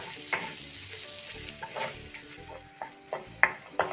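Ground coconut paste hits butter with fried green chilies in a pan for coconut rice, crackling and sizzling while a spoon scrapes and clinks against the metal in irregular strokes, close up and without voices.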